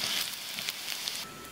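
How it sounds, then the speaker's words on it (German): Mushrooms added to darkened onions frying in a pan, giving a steady, close hiss and crackle of sizzling that stays fairly even before easing slightly near the end. "Zu den jetzt schon etwas dunkel gewordenen Zwiebeln packe ich jetzt die Pilze dazu und lasse die auch schön anbraten."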